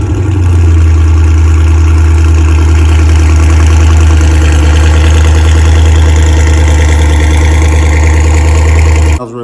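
A car fitted with a catback exhaust idles steadily, with a deep, loud rumble and a constant drone, heard through a phone recording.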